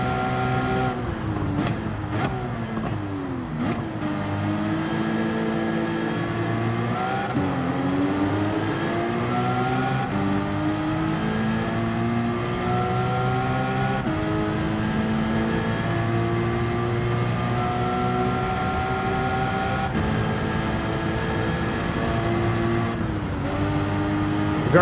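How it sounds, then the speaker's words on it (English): A race car engine in Gran Turismo 7 revs hard, with quick pitch changes early as it shifts, then settles into a loud, sustained roar that climbs gradually. It is heard alone, with no voices. "The car is not handling the same at all."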